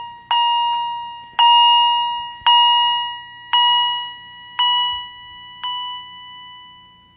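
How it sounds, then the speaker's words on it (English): A fire alarm chime strobe powering down after being unplugged gives six loud, evenly spaced chime tones, each decaying and gradually weakening until the last fades out, with no talking. "that does sound kind of weird when it's powering down"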